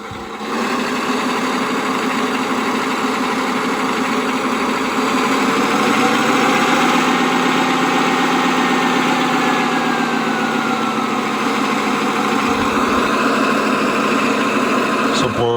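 A Servonaut sound module in a Tamiya 56632 Volvo FH16 8x4 RC tow truck plays a loud, steady simulated diesel idle with a continuous throbbing drone and vibration, briefly changing near the end.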